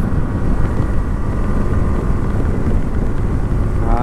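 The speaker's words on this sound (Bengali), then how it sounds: "চলো একটু গাড়িটাকে ভাগানো যাক।" A car driving along a road on a hot day, its engine giving a steady, loud, low rumble with road noise, continuous and close, with no talk over it.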